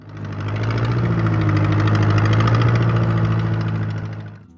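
An Allis-Chalmers D14 tractor's small gasoline engine runs steadily close by, a loud, even, throbbing idle with a knocking pulse that holds for several seconds before cutting off abruptly.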